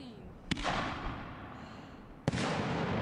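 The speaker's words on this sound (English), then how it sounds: "Yeah, very loud, very crackly, very good shells," Canister firework shells bursting overhead, two sharp loud breaks about two seconds apart, each followed by a dense crackling tail that hangs in the air.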